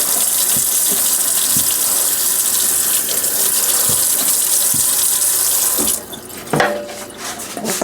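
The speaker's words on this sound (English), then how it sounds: "Wash that onion off." Tap water runs hard into a kitchen sink while an onion is washed, a loud steady gush that breaks into splashing and clunks near the end.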